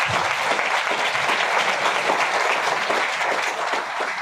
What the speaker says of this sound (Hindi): एक बार मेरे बच्चों के लिए जो दिल खोल के ताली हो जाए।